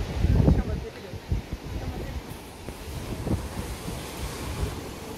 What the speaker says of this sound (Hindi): देखिए बहाव बहुत तेज है।